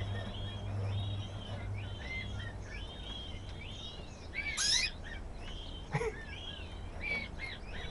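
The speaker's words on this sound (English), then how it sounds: "These are canaries." Pet canaries sing and chirp indoors in a steady run of quick, bright warbling phrases, with a couple of sharper, louder calls breaking through over a faint background hum.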